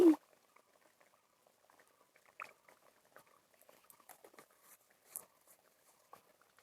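Khirod katla, a Bengali katla fish curry, simmering in a pan: faint, scattered small bubbling pops and ticks in near silence after a brief louder knock at the start.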